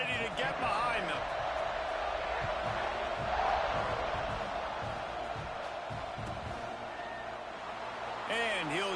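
A large college football stadium crowd roars steadily before a kickoff, a dense sustained wall of cheering with a swell partway through, as a commentator talks over it.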